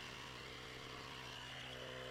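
An air compressor inflating a lawnmower tire, a steady buzzing motor drone with a harmonic hum that runs unbroken, moderately faint and alone.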